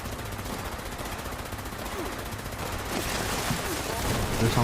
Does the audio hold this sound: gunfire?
yes